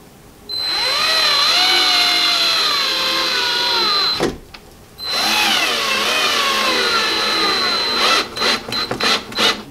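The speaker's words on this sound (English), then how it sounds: "let's put in the screws" A power drill whirs loudly, winding up and down as it drives a screw into wood, pausing briefly, then running again before a few short bursts at the end.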